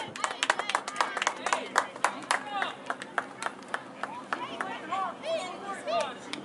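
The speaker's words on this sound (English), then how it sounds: "Applause for Pete Sherman Jr." Crowd applause and scattered sharp claps ring out in a school gym at a home tournament versus Springboro, fairly close, with a voice calling out over the clapping.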